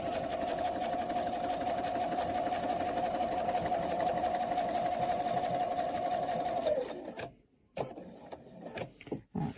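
A sewing machine runs in a fast, steady, even whir as it stitches half of a quilting template, then stops abruptly, leaving brief handling clicks and noises.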